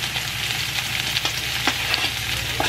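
Cut-up meat sizzles and fries in olive oil in a pan, a steady close crackle broken by a few sharp pops and spatters, with a low hum underneath and no talking.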